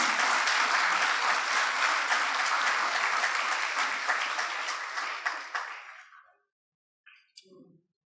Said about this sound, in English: Another round of applause for Ms. Scott.